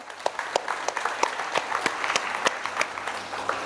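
An audience at a school annual function applauds a student, many hands clapping together in a dense, lively burst with sharper individual claps standing out, steady for several seconds.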